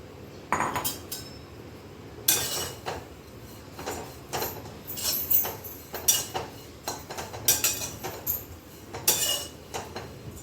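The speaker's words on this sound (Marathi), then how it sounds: "आता आपण जवळा 2 ते 3 मिनिटं छानपैकी भाजून घेऊया।" Small dried shrimp (javala) dry roasting in a pan give off irregular clinks and scraping bursts as they are stirred, close and moderately loud, with short pauses between.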